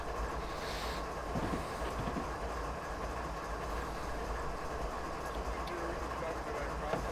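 A heavy freight train in the Train Simulator game rolls downhill on Marias Pass, a steady rumbling drone with faint clicking of wheels, while someone talks over it.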